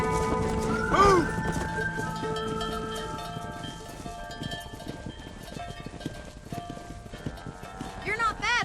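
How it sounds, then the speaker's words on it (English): Horse hooves clip-clopping and a whinny while herding cattle in Red Dead Redemption, under game music and character voices. "Control that horse, will you?"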